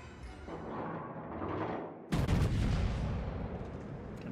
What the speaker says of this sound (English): Gonna fire, then turn my ship and turrets.